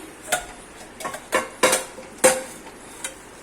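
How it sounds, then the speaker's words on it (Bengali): Metal pot lid being lifted and handled over simmering mutton curry: a string of quiet clinks and clatters, about six distinct knocks spread over a few seconds in a calm kitchen. "ঢাকনা খুলে দেখে নিচ্ছি"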